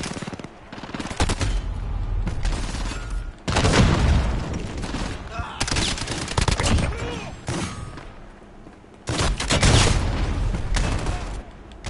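RPG blasts and gunfire in a chaotic Modern Warfare match, loud bursts of explosions and rapid shots in clusters with brief lulls between them.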